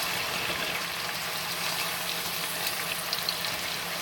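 A 48-hour oxtail marinade is poured into a hot pot, producing a dense, steady sizzle and rushing hiss that stays loud and even throughout, with no talking.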